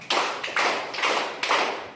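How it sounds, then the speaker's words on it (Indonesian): A classroom group claps in unison four times for the first team, each burst a sharp, close rhythmic clap with brief gaps between them and no talking. "4 kali tepuk tangan untuk kelompok 1"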